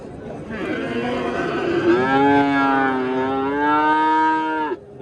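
A five-month-old calf gives one long, drawn-out moo close by at a livestock market, rising and holding steady for several seconds before cutting off.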